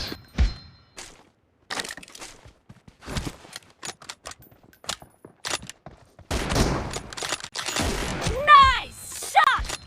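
Sharp, loud rifle cracks from an M24 sniper in PUBG, a 1v1 team deathmatch, fire in scattered bursts with game effects between them, and short voice callouts come toward the end.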